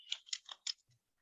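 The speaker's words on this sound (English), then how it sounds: "I'm typing" Several crisp, quiet keyboard keystrokes come in a brief irregular burst, close up in a quiet room.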